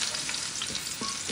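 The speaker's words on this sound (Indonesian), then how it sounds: "Kalau sudah panas, kita mau tumis bawang merah," Shallots and garlic sautéing in hot oil in a wok for a stir-fry, a steady dense sizzle with faint stirring scrapes, close and loud throughout with no talk.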